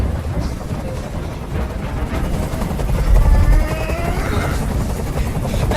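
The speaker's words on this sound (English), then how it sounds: "I can't stand that noise anymore. Tell that helicopter to get out of here." A helicopter hovers overhead in Detroit: Become Human, heavy low rotor rumble droning steadily throughout, swelling briefly in the middle, with faint higher tones drifting above the steady roar.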